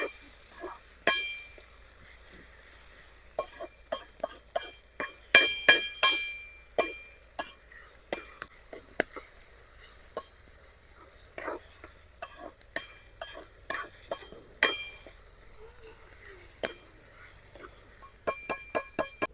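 A spoon stirs tomatoes, green chillies, ginger and spices in a pan for Gujarati baingan bharta, giving irregular metallic clinks and scrapes over a faint sizzle, fairly close and quiet, with no talking.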